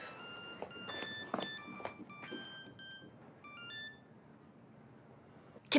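A telephone rings with bright electronic tones over several seconds, then the ringing stops and a quiet room hiss remains before a sharp click at the end.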